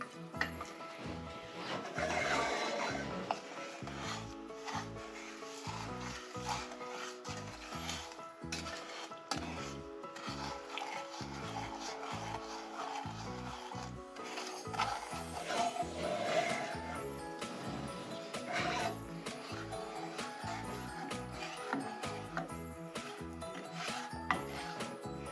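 A wooden spoon stirs a peppermint marshmallow mixture in a pot on a stove, producing soft, irregular scraping and knocking against the pan with faint sizzling, fairly quiet and continuous.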